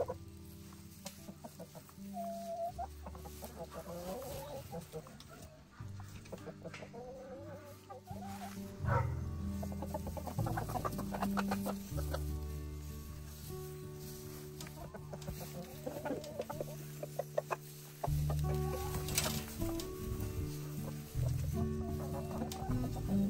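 A backyard chicken flock clucks and murmurs close by in scattered bursts, soft calls overlapping across a steady low background with occasional louder squawks.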